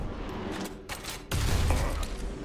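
Gunfire in the video game Postal: Brain Damaged bursts out in a dense, loud clatter of shots, with a brief lull before a heavier, booming volley.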